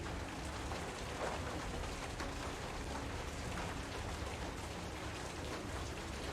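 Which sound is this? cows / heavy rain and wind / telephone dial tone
heavy rain and wind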